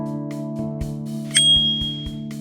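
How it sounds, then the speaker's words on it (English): A bicycle bell rings with a bright, sustained ding standing out over a steady hum, accompanied by soft mechanical clicks. "Bell number 2 has a stable clamp design and a good strong ring."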